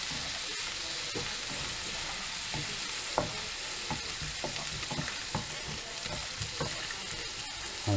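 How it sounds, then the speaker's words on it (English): Peppered steak frying in a pan and being stirred, a steady sizzle of hot fat with scattered scraping and clinking knocks of the utensil against the pan throughout. "Give those a bit of stir, they get upset."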